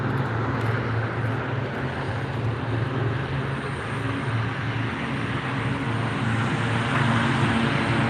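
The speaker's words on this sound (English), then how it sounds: "Here goes tanker 8-3 departing." A firefighting air tanker plane taxiing and departing during a wildfire produces a continuous loud engine drone and roar that holds steady throughout, heard at a distance with no talk over it.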